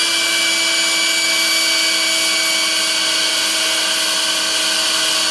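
A power tool cutting rotted metal on a wood boiler, giving off a loud, steady high-pitched whine with a constant tonal drone that runs without a break.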